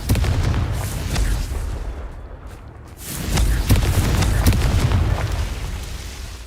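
Confringo fire spell explosions in a Harry Potter video game, heavy booming blasts with crackling bursts that roll on continuously, loud and close, with a brief lull midway before another strong blast.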